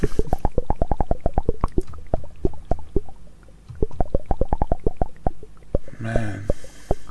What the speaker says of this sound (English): The yeast is breaking down the hydrogen peroxide super quickly, releasing oxygen gas. That's what's making all the bubbles.